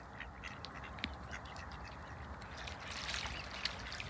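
A duck quacks faintly at a pond's edge, with a few short calls rising over steady low water and ambient wash. The scene is quiet and the bird sounds somewhat distant.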